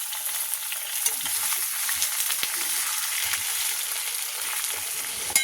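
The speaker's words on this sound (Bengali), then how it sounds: "আলু রসুন একদম ভাজা ভাজা হয়ে গেছে।" Potatoes and garlic frying in oil in a pan, a steady close sizzle with occasional crackles and stirring clicks, continuous throughout.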